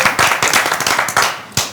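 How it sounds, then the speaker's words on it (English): Live audience applauding podcast hosts at a season finale taping, close and loud claps with sharp individual hits layered into a dense burst of hands. "Give them a round of applause, Sade and Joe"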